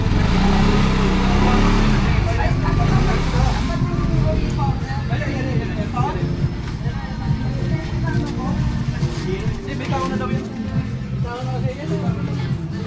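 A motorcycle engine runs and revs at a night gathering of riders as the bike is maneuvered and turned around, loud and close at first, then settling under overlapping voices and crowd chatter.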